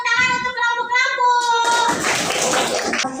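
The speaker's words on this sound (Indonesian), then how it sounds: "Berikan tepuk tangan untuk kelompok lampu" A classroom of children breaks into applause for the lamp group, a burst of dense, bright clapping that follows a teacher's voice and fills the room loudly to the end.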